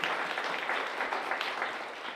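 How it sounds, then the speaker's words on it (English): An audience at a summer literary festival writers' panel applauds its panelists, a steady wash of clapping from many hands that holds evenly throughout. "Round of applause for our panelists."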